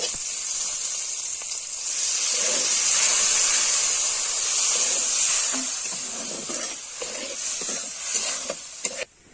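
Water poured into a hot pan while cooking ghugni, a loud steady steam hiss that swells and slowly fades, with faint stirring clatter near the end.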